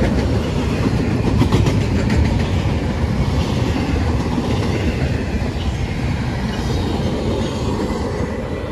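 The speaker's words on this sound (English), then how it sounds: "That's the end of this train, guys." A long freight train rolls past at close range in Berea, Ohio, a continuous loud rumble with rhythmic clickety-clack of wheels over rail joints and no voices.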